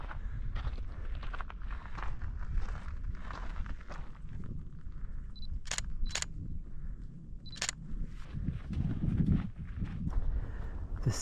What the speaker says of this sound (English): all the goats are walking into the sun